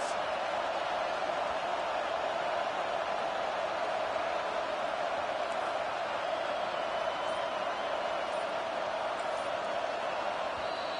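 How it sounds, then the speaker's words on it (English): A college football stadium crowd roars loudly and steadily through a fourth-down play with Kentucky, a dense, constant wall of noise with no let-up across the whole span. "Fourth down, and this crowd is making it miserable on this offense."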